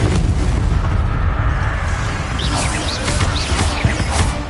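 Bombarda spell blast in the Hogwarts Legacy video game on PS5, a loud, close booming explosion with a lingering rumbling roar and scattered crackling debris, no voices over it.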